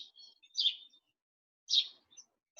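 Two short bursts of high bird chirping, a second apart, clear against near silence in a calm natural setting with frogs and insects about.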